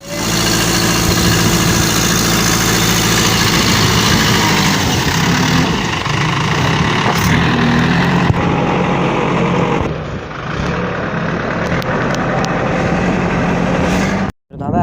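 A JCB excavator engine idles nearby with a loud, steady mid-pitched drone that eases slightly before cutting off abruptly at the end.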